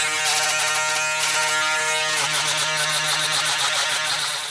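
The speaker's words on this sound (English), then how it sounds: "now I'm going to go in with the Andes Profiles, and I'm going to bald out this bottom line" An Andis Profile electric shaver buzzes steadily at close range while balding out a hairline during a high-top fade haircut, its tone shifting slightly as it moves against the skin.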